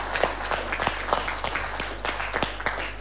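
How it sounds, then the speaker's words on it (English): Moderate applause at a stakeholder engagement event on governance, democracy and human rights, a room of people clapping in a fairly steady, uneven patter for a few seconds over a low electrical hum. "I would like to request a big round of applause to Professor Jima"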